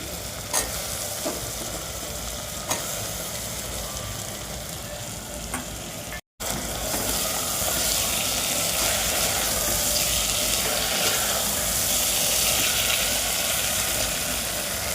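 Pieces of potato go into hot oil in a pan for masale bhaat, giving a steady, loud, close sizzle and frying hiss that carries on throughout after a brief break.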